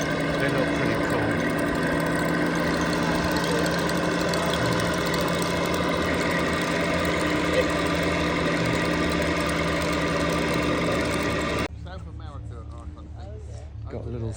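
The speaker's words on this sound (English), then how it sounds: "Got a little steam engine there" A small steam engine runs with its boiler fired at an outdoor classic car and steam vehicle show in Norden, England. It makes a continuous, busy mechanical chugging that is close and loud, with crowd noise and talk mixed in, and it stops abruptly near the end.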